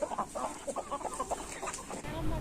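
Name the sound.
country chickens and rooster on a poultry farm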